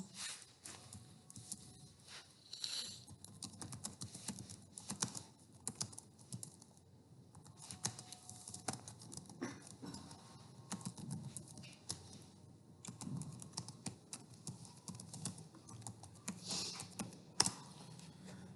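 Keys tapping steadily on a computer keyboard while a product title is entered into an online listing form, a continuous close patter of irregular keystrokes with brief pauses and no talking.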